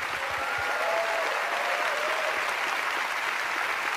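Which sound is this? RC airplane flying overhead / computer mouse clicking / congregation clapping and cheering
congregation clapping and cheering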